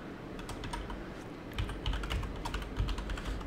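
A computer keyboard is typed on steadily while a product name is entered in a Shopify store setup, quick light keystrokes in an even run, moderately close and alone without any speech.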